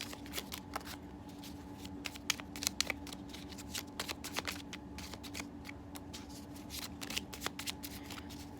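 Tarot cards being shuffled and drawn, a quiet continuous riffle of card edges with soft flicks and slaps of cards being pulled from the deck, close and alone.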